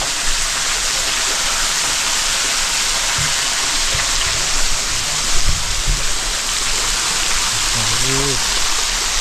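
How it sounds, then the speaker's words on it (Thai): A waterfall pours down in the rain beside an abandoned monk's hut in the hills, a loud, constant rushing wash, with a voice speaking briefly over it near the end. "น้ำตกลงตรงนี้เลยนะครับ"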